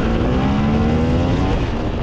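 A KTM 250 two-stroke motard motorcycle engine holds a loud, steady, buzzing note at close range for two seconds.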